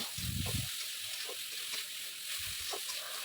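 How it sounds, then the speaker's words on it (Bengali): Garlic and ginger fry in a pan for a pea ghugni, giving a steady broadband sizzle with a few low thuds of pan handling near the start and toward the end. "রসুন আদা কুচি মানে জলে যাবে সেই জন্য একটু পরেই দিয়েছি মানে দিয়ে দিয়েছি এখন তাও এগুলো সব একটু এখন ফ্রাই করে নেব"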